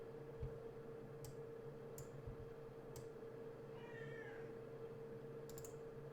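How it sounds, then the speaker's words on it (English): A cat meows softly in the background of a quiet room during latex seam work, one faint drawn-out call midway, with a few sharp clicks and a steady low hum around it. "my cat is meowing in the background"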